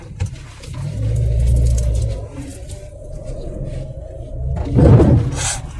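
A small 1996 Fiat Punto with a 55 hp engine revs and accelerates nearby, a steady engine drone swelling for a couple of seconds, easing off, then surging again near the end, with faint bird cooing in the background.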